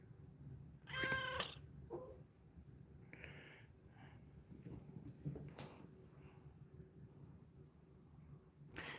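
Pet cats in a home with nine rescue cats meow in short, scattered calls, one loud cry near the start and fainter mews later, over a quiet, low room hum with no talk.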